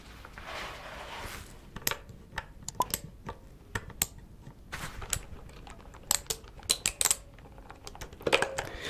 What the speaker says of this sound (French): Donc là, c'est un clavier